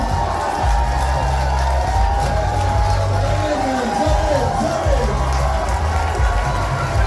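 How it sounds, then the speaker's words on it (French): A festival crowd cheers and applauds for a professional chili eater from Montréal, with loud whoops and shouting over steady babble and a low rumbling beat underneath, continuous and close throughout. "Une dernière applaudissement"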